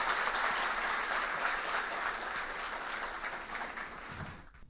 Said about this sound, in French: je demande un tonnerre d'applaudissements